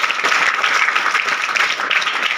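An audience applauding, a dense and steady burst of many hands clapping together, fairly loud and continuous throughout.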